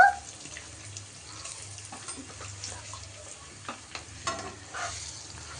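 A mango rice mixture fries in a pan at home, with a low continuous sizzle and soft scraping stirs, several louder scrapes and clatters near the end.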